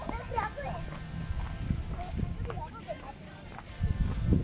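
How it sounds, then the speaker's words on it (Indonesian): A horse walks with light, irregular hoof clops on the ground at a recreation area, moderately close, while people and children talk in the background. "Saya mau naik kuda ini."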